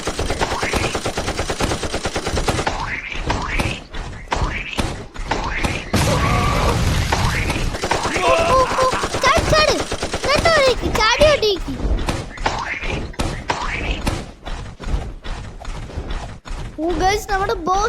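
Gunfire in the Roblox game 99 Nights in the Forest during a boss fight: rapid bursts of shots and mechanical clatter, loud and close, repeating over much of the stretch while someone talks over it.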